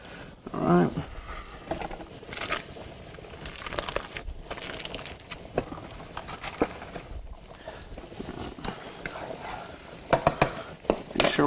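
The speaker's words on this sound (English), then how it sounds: "we're keeping our pasta stirred a little bit, just lightly moving in that pot so it doesn't get overcooked for us" Pasta being lightly stirred in a pot of water during cooking, with soft scraping, sloshing and bubbling that stays fairly quiet and steady, plus a few sharper knocks near the end.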